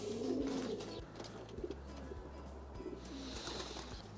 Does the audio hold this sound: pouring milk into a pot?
no